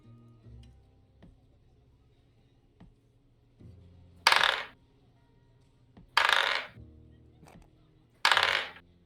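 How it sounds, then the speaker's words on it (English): Dice rolled during a tabletop Eberron roleplaying session clatter in three loud, brief bursts spaced about two seconds apart, with faint ticks and low room murmur between them. "Oh, you just hear Chris rolling dice?"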